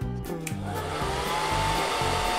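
A roughly 15-year-old hair dryer blowing on its cold setting, a loud, close, continuous whirring hum with a strong low motor drone and airy rush, steady throughout with no voices.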